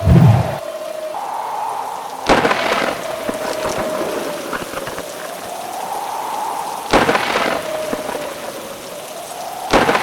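Heavy rain pours steadily and loudly around an old mansion, with sharp thunder cracks breaking through twice and again near the end.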